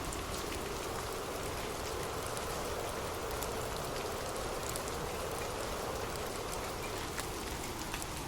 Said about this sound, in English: Sweet dreams, and drift off to sleep with rain.